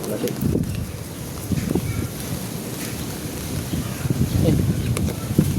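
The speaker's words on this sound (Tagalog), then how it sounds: "Malakas ng hangin." Strong wind buffets steadily outdoors, with rumbling gusts and a low roar near water, and people speak faintly under it.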